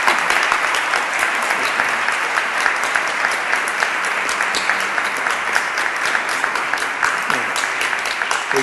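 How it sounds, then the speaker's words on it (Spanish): An audience at a liturgical congress conference applauds in remembrance of a late bishop and theologian, sustained close, crisp clapping with sharp individual claps standing out across the continuous wash. "que merece este aplauso de recuerdo de todo corazón, ciertamente"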